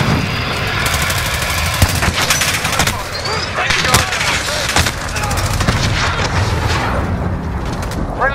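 Heavy gunfire in a Modern Warfare multiplayer match: dense, loud, rapid bursts and shots, continuous throughout with a few heavier cracks, under occasional speech.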